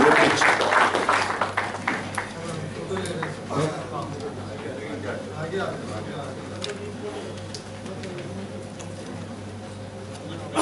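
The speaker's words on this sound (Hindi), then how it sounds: "आइए प्रभु यीशु के लिए एक बार जोर से ताली बजाएं।" Applause from a church congregation starts loud and gradually thins out, under the sound of voices in the hall.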